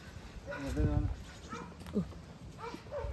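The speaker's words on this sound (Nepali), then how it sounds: "कुकुरहरूको रहेछ कि यस्तो भुक्छ यस्तो भुक्छ" Dogs bark in short, loud bursts close by near a tent, with a couple of yelps clustered early and again near the end, mixed with people talking throughout.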